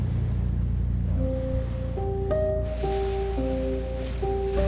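Ocean waves around St. Helena island give a steady, full roar of surf and wind, with sustained musical tones playing over it.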